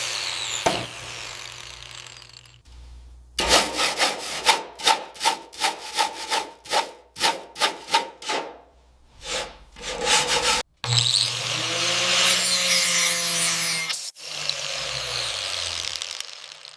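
A small brush scrubs the corners, bolt edges and weld seams of an abandoned 1940s dragline excavator during restoration, giving a rapid rhythmic rasping in close bursts, then a steadier grinding rub.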